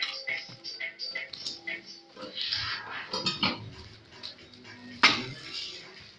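Stainless steel cookware set with a pot lid being handled, giving a few light metallic clinks and clatters, one sharper knock near the end, under a low room background without speech.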